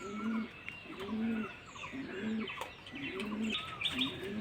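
Pigeons gathered to bathe, with rhythmic, repeated cooing close by, occasional chirps and a brief flutter of wings.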